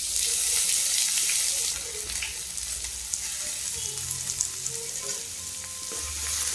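Sliced onions and green chillies sautéing in a pan, a bright hissing sizzle that is loud at first then settles, with light scattered scrapes of stirring.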